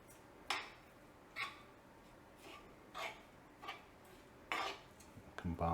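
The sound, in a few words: stirring stuffed mushroom filling in a bowl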